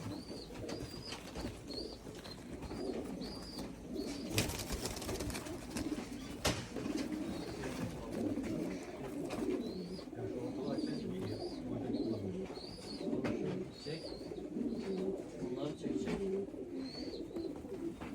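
Arab breed pigeons coo repeatedly in a loft, soft throaty calls recurring every second or so against a quiet background with occasional wing flaps and faint knocks.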